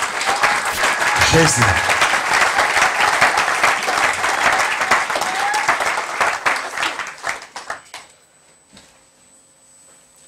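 Church congregation applauding loudly and steadily for several seconds while voices cheer and a speaker talks over it, then the clapping thins out and fades to near silence.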